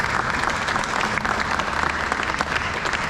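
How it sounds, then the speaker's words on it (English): Dense, sustained applause from an outdoor crowd at the Pacific Airshow 2023 opening ceremony, a steady wash of many hands clapping throughout with no speech on top. "So let's give them a round of applause, please."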